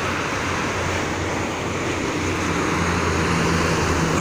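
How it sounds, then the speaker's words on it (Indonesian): Strong wind blows beside the Jakarta–Cikampek toll road, a steady broadband roar with a faint low rumble of passing traffic underneath, continuous with no talking. "anginnya cukup kencang."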